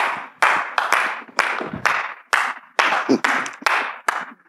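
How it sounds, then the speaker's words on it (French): Hands clapping in a studio audience welcoming a guest onto a TV set, loud, uneven bursts of claps arriving in waves rather than a steady roar. "vous m'aidiez à recevoir sur notre modeste plateau le prophète Palinfo Raymond par vos acclamations là où vous êtes."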